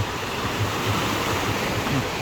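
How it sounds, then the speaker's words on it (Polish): Sea waves wash steadily over a pebble beach, a continuous broad rushing hiss with soft rolling surges underneath, heard alone with no voices. "posłuchajcie sobie tego szumu morza"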